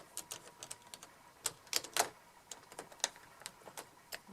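Small metal doorknob parts are wiggled and fitted together during assembly, giving faint, irregular light clicks and taps close by in a quiet room.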